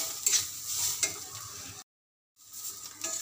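Sesame seeds being stirred into banana stem frying in a pan, a soft scraping and sizzling texture with a few louder stir strokes, broken by a brief silent gap before the frying resumes.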